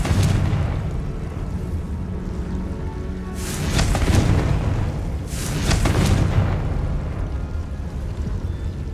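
Two deep, rumbling blasts from the Confringo fire curse in Hogwarts Legacy, one near four seconds and another near six, rising from a steady low ambient rumble; no voices.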